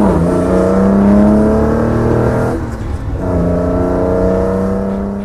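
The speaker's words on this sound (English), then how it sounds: "1966 Jaguar E-Type." A 1966 Jaguar E-Type engine revs loudly and close up, a strong, steady burble that rises, dips briefly, then rises again, with no voices.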